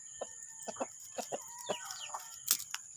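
Hens clucking in a backyard flock of laying chickens, a run of short, irregular clucks and calls spread across the few seconds, fairly close, with one louder squawk near the end and no talking.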